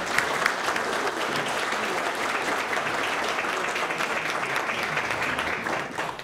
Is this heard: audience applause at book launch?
yes